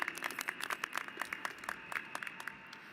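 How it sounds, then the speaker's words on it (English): Graduates applaud together at the Bellevue College 2022 commencement ceremony, a steady, dense crowd clapping with rapid overlapping claps that rise in brief louder bursts throughout. "We can give ourselves a round of applause."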